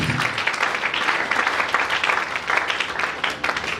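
Vigorous applause from a church congregation praising the Lord, dense steady clapping that stays loud and close for the whole stretch without letting up.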